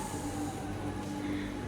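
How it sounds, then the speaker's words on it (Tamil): Steady low rumble and drone of a metro train at a metro station, a continuous close mechanical hum with faint high hiss throughout. "மெட்ரோ ஸ்டேஷனுக்கு வந்தாச்சு"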